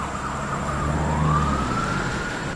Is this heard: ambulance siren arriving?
yes